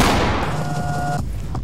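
Rapid gunfire in the tactical shooter game Ready or Not, a dense sustained burst of shots lasting about a second before cutting off, followed by quieter ambient rumble and a faint distant sound.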